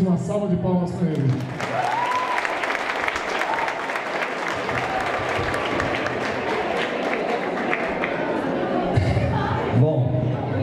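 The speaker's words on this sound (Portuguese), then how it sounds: "uma salva de palmas para ele." Sustained applause from a crowd at a school's 30th-anniversary celebration fills the whole stretch, dense and steady, with voices briefly audible at the start and end.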